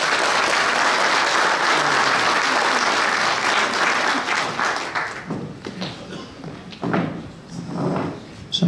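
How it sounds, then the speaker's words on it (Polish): Loud, sustained audience applause in a hall in Ostrołęka after a government minister's speech, dense and steady before thinning into scattered claps and fading, with a few thumps near the end. "bardzo dziękuję za te oklaski"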